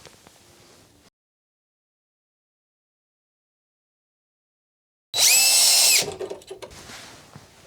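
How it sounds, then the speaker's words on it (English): A loud power drill driving screws into a range hood whines in a single steady burst, then tapers off with some clattering after a stretch of silence. "we're going to get our screws and our drill gun, and we're going to screw 4 times into place"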